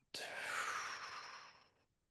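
A single long exhale pushed out through the mouth during a breathwork session, a soft airy whoosh that starts abruptly, holds steady for over a second and trails off, heard close and alone.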